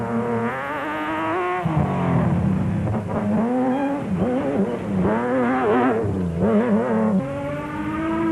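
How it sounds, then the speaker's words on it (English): A Nissan Class SP hardbody race truck with a 4-cylinder engine races in the 2005 Limpopo 400, its engine rising and falling through loud, repeated revs and gear changes close by. "Vos is fast and the proudly South African hardbody is sounding good"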